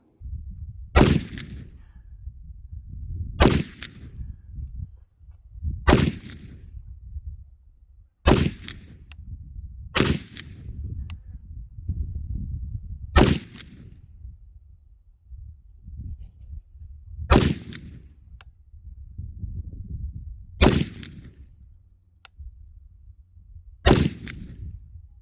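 LMT MWS Defender H 7.62/.308 rifle fired at an outdoor range after an extractor swap: ten loud, sharp single shots spaced a few seconds apart, each with a short echo, low rumble and background noise between them.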